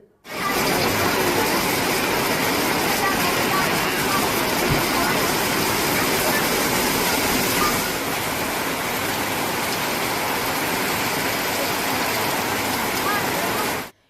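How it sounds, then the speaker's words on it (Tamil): Heavy rain driven by strong wind, with water running over roads, a dense continuous hiss and rush that stays loud and even throughout, with no voices. "பலத்த காற்றுடன் பெய்த மழையால் சாலைகளில் தண்ணீர் ஆறாக ஓடியது"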